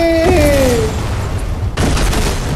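Explosions in the video game Fortnite make a loud, continuous booming rumble that opens with a falling whine, then dips briefly and swells again into dense blasts.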